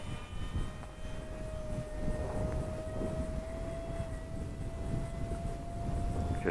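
A Freewing F86 Sabre RC jet with a 700mm wingspan flies on a windy day. Its steady ducted-fan whine holds a constant pitch over rumbling wind noise, with no voices.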